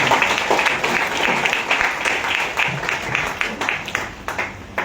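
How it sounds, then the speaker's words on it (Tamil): An audience applauds after a speech at the Colombo Kamban festival, a dense, loud wash of clapping that holds steady throughout. "அவருக்கு இன்னும் கூட நீங்கள் நன்றாக கைத்தட்ட"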